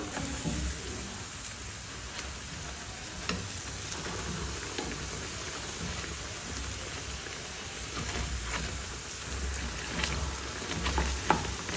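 Battered banana slices fry in hot cooking oil, a steady, soft crackling sizzle with scattered pops continuing throughout, fairly close and on its own.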